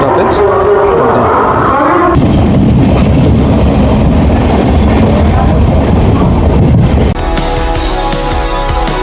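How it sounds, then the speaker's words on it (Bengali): A train pulls out of Howrah station, a loud, continuous rumble of rolling wagons and engine with steady clatter throughout, swelling and shifting near the end. "নির্ধারিত সময় 10টার সময়তেই ট্রেন ছেড়ে দিল হাওড়া স্টেশন থেকে"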